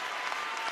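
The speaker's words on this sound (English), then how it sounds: "Crowd here offering everything they can to Shin's cause." A crowd at a world team table tennis championships quarterfinal applauds and cheers continuously, a dense wash of clapping from spectators heard without commentary over it.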